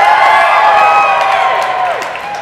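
An open-stage audience cheers and whoops loudly, a dense, sustained roar of crowd voices with some clapping that fades slightly toward the end.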